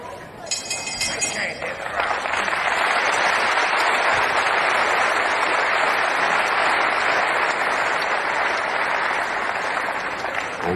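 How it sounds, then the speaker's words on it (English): Appreciative crowd applauding after a hard-fought round between two men at a 1975 wrestling bout at The Sports Centre in Crawley, a sustained, dense wash of clapping that swells after a brief opening and holds steady and loud. "a lovely sound to hear the really appreciative crowd applause after a really good round by both men"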